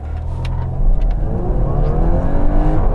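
A tuned 2019 Audi A5 coupe accelerates hard, its engine note loud, close and rising steadily through the gears with a continuous revving roar and no talking.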